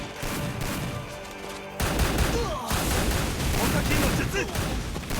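Rapid bursts of gunfire in the Free Fire shooter game, with dense volleys of shots starting midway, while a voice talks over the action.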